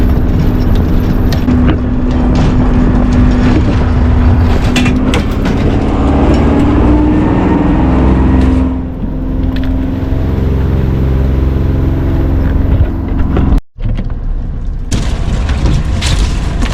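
Wind blows hard while rowing a boat on the water, a loud, constant rumbling buffet across the microphone with heavy low booming gusts, briefly dropping out near the end.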